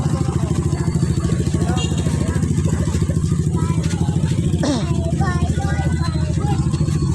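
A motorcycle runs nearby with a steady, rhythmic engine throb that continues unbroken, while people chatter over the engine noise.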